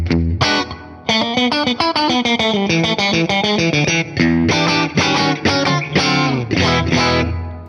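Fender Player II Stratocaster in the position-two quack setting through a Tone Master Pro, with a hollow, nasal tone, playing a quick run of picked notes and chords, loud and steady with no voices.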